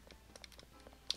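Quiet, irregular clicks of keys on a computer keyboard during gameplay, a short burst of light taps with one sharper keystroke near the end.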